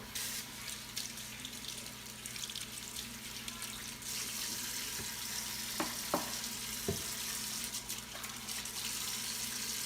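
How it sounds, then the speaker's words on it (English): Tap water runs steadily into a sink during handwashing, a constant close hiss with a few faint clinks and knocks partway through. "I'm gonna wash my hands and then I'll be right back."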